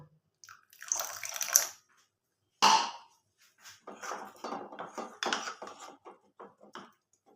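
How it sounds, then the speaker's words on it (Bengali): A small splash of water added to fish ball mixture in a bowl, then wet mixing: a brief pour followed by rhythmic squelchy, sloshing strokes with short pauses, close and moderately loud, no talking. "এর মধ্যে আবার অল্প একটু জল দিয়ে দেবো"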